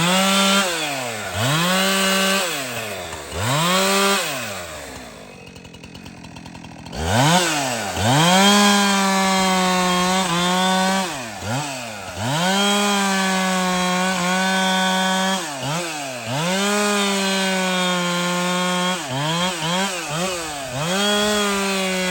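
A Husqvarna 372 X-Torq chainsaw cuts wood up close and loud, its engine revving up and bogging down repeatedly under load, with a brief quieter dip partway through and no talking.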